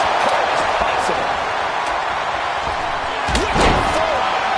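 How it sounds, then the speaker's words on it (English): A heavy body slam thud lands in the wrestling video game WWE 2K25, a single loud impact under constant crowd noise and commentary talk. "Did you hear that thud?"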